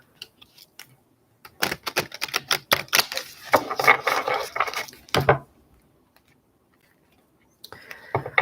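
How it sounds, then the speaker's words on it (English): Thick playing cards being shuffled by hand, a rapid burst of clicking, riffling flicks lasting a few seconds, close and fairly loud, with a few separate taps before and a softer rustle near the end. "It's so impossible to freaking shuffle them."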